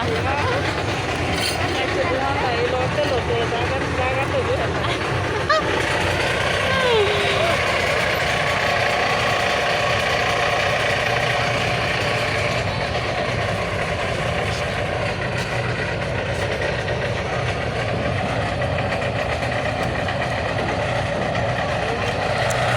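A passenger ferry's engine runs with a steady, loud mechanical drone while people talk nearby throughout.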